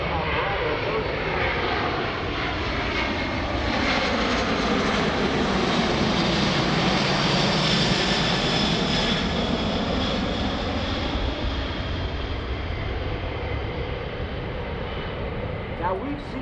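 A Boeing C-17 Globemaster III jet transport flies a demonstration at EAA AirVenture 2018, its engines a loud, steady roar with a slowly shifting pitch as it passes, under continuous talk.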